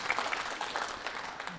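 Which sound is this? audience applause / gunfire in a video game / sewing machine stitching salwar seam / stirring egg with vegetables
audience applause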